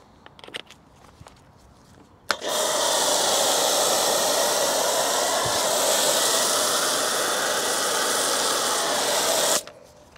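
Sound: spraying wheel foam onto car wheels

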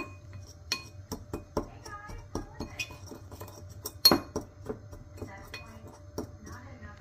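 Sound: mixing spice rub in a bowl

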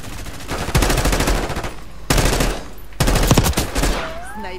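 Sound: gunfire in the video game Call of Duty Black Ops 6

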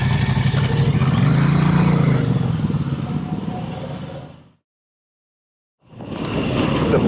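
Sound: Moto Guzzi V85 TT motorcycle riding

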